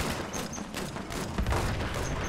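Rapid gunfire in the video game Fallout 76, a dense, continuous burst of shots filling the whole stretch at a steady, fairly loud level with no talking.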